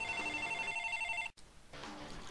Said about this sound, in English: And I just got a phone call.